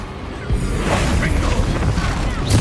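A Confringo blasting spell erupts in Hogwarts Legacy, a loud, continuous booming rumble of explosive impacts filling the whole stretch with a sharper burst at the end, while a voice shouts over it.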